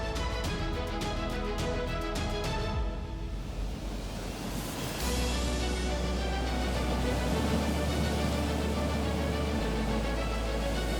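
Atlantic ocean waves and surf roll and crash in a steady broadband wash, loud and close, with a deeper surge building midway and wind noise underneath.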